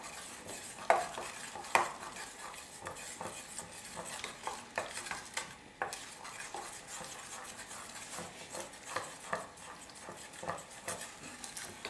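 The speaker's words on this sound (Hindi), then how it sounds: "और इसको भी हम मिक्स करेंगे" Cold cream being stirred into a mango mixture for a mango soufflé: a spoon scrapes and clinks against the bowl in irregular strokes, close and fairly soft, with no talking.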